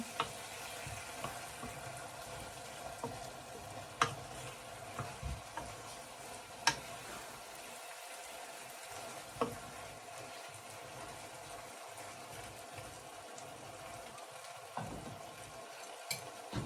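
Chicken caldereta is stirred in a pot, with sharp scattered clicks and taps of a spoon against the pot over a soft, steady simmering sizzle. No speech is heard.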